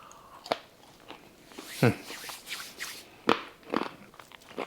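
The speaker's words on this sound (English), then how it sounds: "One bite of the potato fries, sweet potato fries." Crisp sweet potato fries bitten and chewed up close, several sharp crunches spaced a second or so apart, each followed by softer chewing, in a quiet home kitchen.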